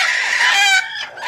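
Desi chickens on a small poultry farm give a loud, close, drawn-out clucking call, one bird's voice rising and breaking into a shorter squawk, with no talking.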